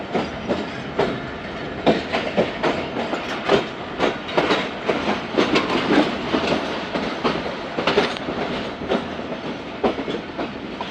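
Khyber Mail passenger train running on rails, heard from on board as a steady rumble with repeated clickety-clack wheel beats over rail joints, loud and close, without speech.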